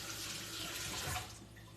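Running tap water rinses bell peppers in a kitchen sink, a steady close splashing stream that eases slightly toward the end, with no talk.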